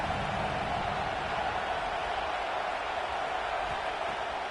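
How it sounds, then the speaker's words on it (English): Stadium crowd at a college football game roars as a steady, loud, broadband wash of noise that holds constant throughout, with no clear individual voices standing out. "This crowd bringing the energy and noise early."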